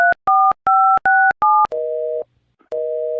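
Telephone tones on an unanswered call: five quick two-tone dialing beeps in a steady rhythm, then a long lower ringback tone, a pause, and the tone starting again, loud and clear with no talk.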